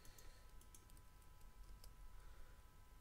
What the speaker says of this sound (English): Sorry if you can hear my keyboard in the background.